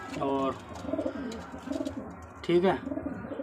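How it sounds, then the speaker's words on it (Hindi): Pigeons in a loft coo with soft, low warbling calls, a louder burst near the start and another toward the end, while someone talks over them. "तो ये कबूतर है भाई जान इस लड़के के"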